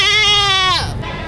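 A goat at a livestock market lets out one loud, close, wavering bleat that trails off, with market noise around it.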